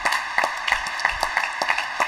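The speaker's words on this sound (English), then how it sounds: "A delight for the crowd here who are responding with rapturous applause" A crowd applauds at a real tennis court after a match, a steady run of close, bright claps with individual hand strikes audible, fairly loud and without talk.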